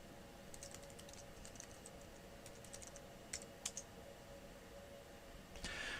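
Typing of a username and password on a computer keyboard while logging into a course website: a faint, scattered run of light key clicks with a few sharper taps near the end, alone with no talk.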